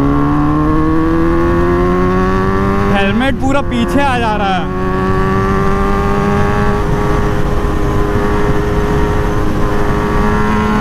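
Kawasaki Z900 BS6 motorcycle with a full system exhaust accelerating hard, a loud rising engine note climbing through gears with a brief shift break, a rider talking over the roar.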